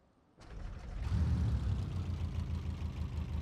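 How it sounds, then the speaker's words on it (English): A brand-new car's engine turns over at about 0.4 s and settles into a steady, fairly loud idle with a low rumbling pulse that continues alone through the rest of the clip. "it doesn't sound the best just idling, but that sounds nice."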